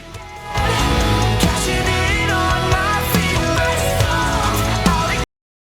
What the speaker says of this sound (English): So that's the sound of the Wave C1 on a complete mix.